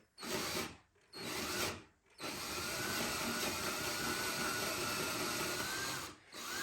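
A power drill cuts a countersink into wood while building a heart-shaped rocking cradle, whirring loudly in two short bursts and then one long steady run, alone with no talk.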